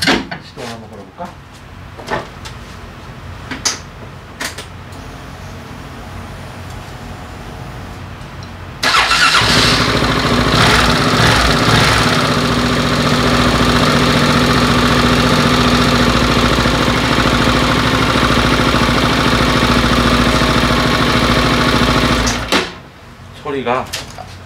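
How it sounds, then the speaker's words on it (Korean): After some muffled knocks and handling noises, a car engine cranks and catches, then idles loudly and steadily for about thirteen seconds before shutting off. "시동 한번 걸어볼까?"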